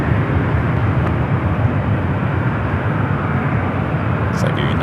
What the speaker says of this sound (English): It's like a United Dreamliner heading to 28 right.